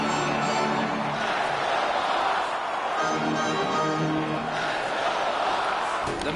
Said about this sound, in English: The home crowd is pretty excited about that.